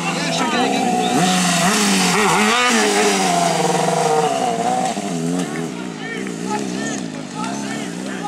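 Motorcycle engine revving and roaring steadily close by during a street-fighter stunt show, held on a front-wheel start, with pitch shifting as the throttle changes and a voice talking over it.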